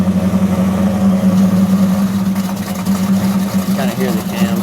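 A small-block car engine idles with a steady, throbbing low rumble and a choppy cam-profile lope, loud and close throughout, with people talking faintly near the end.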